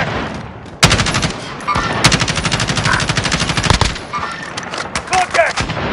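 Video game gunfire in rapid automatic bursts, a loud stuttering rattle of closely spaced shots with brief pauses between strings, plus a few heavier single reports, with voices faintly present.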